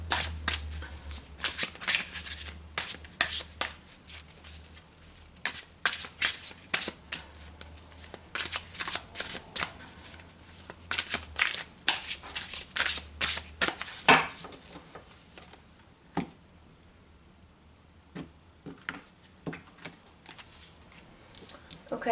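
Tarot cards shuffled by hand in long bursts of crisp riffling and flicking, moderately close, with quieter gaps and a few isolated card snaps toward the end; a low hum runs beneath the first half.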